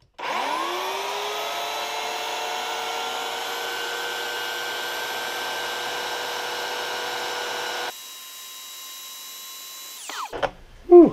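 Oregon CS 1500 electric chainsaw runs at a steady, loud whine for about eight seconds, then the motor cuts and spins down, ending in a few clunks.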